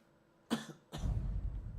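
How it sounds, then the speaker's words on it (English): A person coughs sharply once, a short close burst followed by a second rougher cough trailing into breathy noise, heard alone without speech. "I'm coughing."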